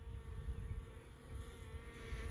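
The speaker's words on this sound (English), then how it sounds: "the bees aren't flying really good yet" Bees buzz steadily around a hive in a backyard bee yard, a continuous close insect drone with many overlapping wingbeats, no talking.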